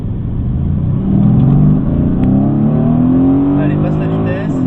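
Mercedes-AMG GT S with 510 hp accelerating hard on a track, engine note climbing steadily and loud from inside the car, with a driving instructor talking over it.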